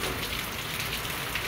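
Steady rainfall, a dense even hiss of drops hitting a surface, constant and fairly loud with no other sounds.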